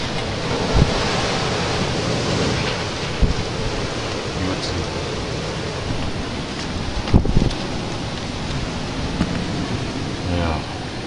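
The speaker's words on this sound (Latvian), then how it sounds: "baigais vējš" Strong wind blows in a constant rough rush against the microphone, with a few sharp knocks and faint background sounds.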